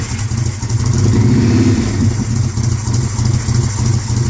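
A Yamaha Roadstar motorcycle fitted with a custom 2-into-1 exhaust runs close and loud, its deep steady engine note rising briefly around the middle before settling back into a rumbling idle, with no voices.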